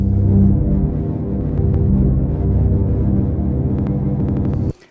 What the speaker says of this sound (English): That's the scatter effect, which I applied just to create some rhythmic variations.